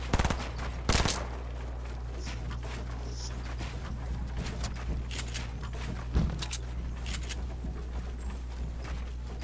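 Gunfire from a single shooter in Fortnite, scattered cracking shots of varied strength over a steady low background hum, a couple of louder bursts near the start and another midway.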